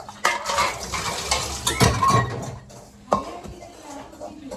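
Metal utensils, pots and pans clank and scrape while being washed, with several sharp clatters and a steady rattle of dishes knocked together close by.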